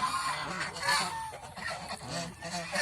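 Domestic geese honk loudly and close by, a rapid run of overlapping nasal calls that continues throughout with no talking.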